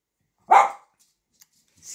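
A dog gives one short, sharp bark close by in a quiet room, followed by silence and a faint hint of another sound at the very end.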